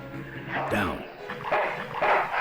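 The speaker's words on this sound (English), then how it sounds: "there was a pretty vicious junkyard dog rolling around here" A vicious junkyard dog in the Full Throttle Remastered adventure game gives a few sharp barks and yips over game background sound, with a voice speaking at the same time.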